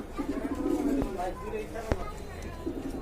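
Pigeons cooing at a pigeon market in Bangladesh, soft nearby coos under a crowd's speech babble, with a couple of sharp knocks.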